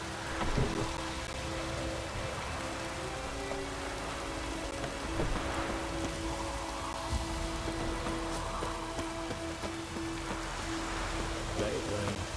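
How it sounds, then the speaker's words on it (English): Steady rain falling in The Witcher 3, a faint hissing wash with scattered drops under quiet game ambience and occasional low hum. "Let it rain."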